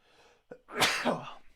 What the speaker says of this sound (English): hold on, I'm going to sneeze, I think